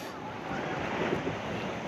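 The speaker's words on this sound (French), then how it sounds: "Il y a trop de vagues." Rough, rushing surf noise with wind buffeting the microphone, swelling slightly midway through a short stretch.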